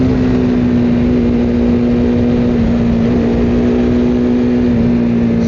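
KTM Duke 250 motorcycle engine running steadily with a strong, sustained drone and a slight pitch shift partway through, loud and close with no talking.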